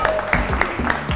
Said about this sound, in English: Clap it up for being here.